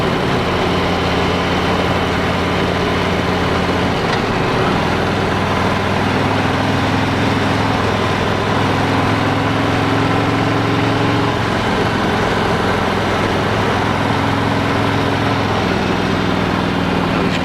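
A motorcycle engine runs steadily while the bike is ridden, a continuous loud low drone with shifting tones and no talk, during a summer shakedown ride ahead of the 2021 Sturgis rally.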